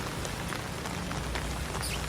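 Steady rain falling in Tokyo during the rainy season, a dense continuous patter on hard surfaces with no talk, heard briefly and close.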